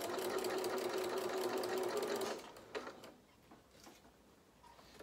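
A domestic sewing machine stitches a bear softie seam at a steady, fast whir for about two seconds, then stops, leaving faint handling sounds.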